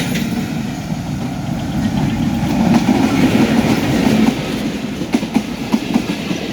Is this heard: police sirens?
no